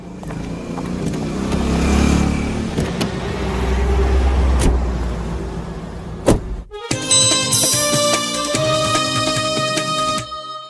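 A car in a Tamil movie scene drives off, its engine and road noise rising and holding loud over a rumbling low end, then the scene cuts sharply to a busier bright mix.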